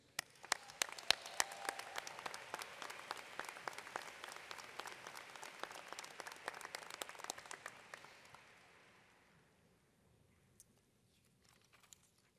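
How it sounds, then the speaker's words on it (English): Commencement audience applauding faculty at a School of Management graduation ceremony, a steady dense patter of many hands clapping at moderate distance that fades out, followed by near silence with a few scattered claps. "Join me as we applaud their support of and dedication to the success of our students."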